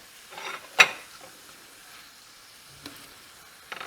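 Garlic shrimp cook in a pan of butter and olive oil, giving a soft, steady sizzle up close, with a few sharp clinks and scrapes of a utensil stirring the pan.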